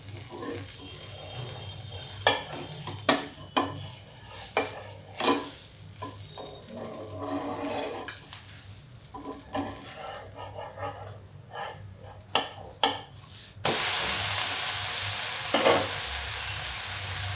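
Food roasting in a pan sizzles steadily while stirring and scraping clatter in sharp bursts; near the end the frying swells into a louder, continuous hiss.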